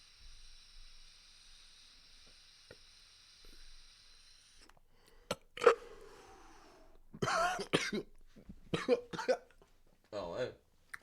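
A faint hiss fades out, then a person coughs several times in harsh bursts, close and loud, with some talking between.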